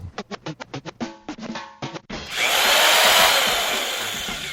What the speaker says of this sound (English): Wait, is that a drill?